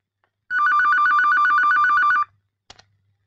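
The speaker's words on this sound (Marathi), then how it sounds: "जरा बघ कुणाचा फोन आहे तो" A telephone bell rings in one rapid, trilling burst lasting under two seconds, loud and close in a quiet room, followed by a brief click.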